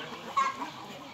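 Chickens at a breeding farm settle down in the evening, giving a single faint, short cluck against quiet background hiss.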